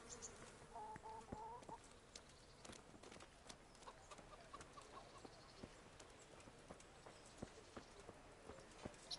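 A horse in Kingdom Come: Deliverance, with faint irregular hoof clops and snorts over quiet village ambience of chickens, birds and insects.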